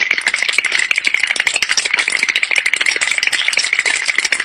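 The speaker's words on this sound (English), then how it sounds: "So our duo take the elevator up, trying to reach the surface" An elevator in the game Metro Last Light rattles as it climbs, a loud, dense, continuous metallic clatter of rapid ticks and jolts with no voices.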